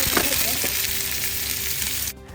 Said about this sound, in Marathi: हे पनीर मी पॅनमध्ये टाकते आणि थोडंसं पालक